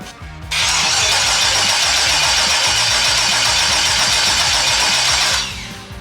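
A twin-turbo LS-swapped New Edge Mustang engine cranks hard and loud on its first start attempt, a steady rhythmic starter churn lasting about five seconds before it cuts off, with no talking over it.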